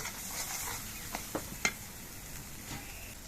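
Spice masala fries in oil for a pomfret curry while a utensil stirs it: a soft, low sizzle with a few sharp scraping clicks near the middle, close and fairly quiet, without speech.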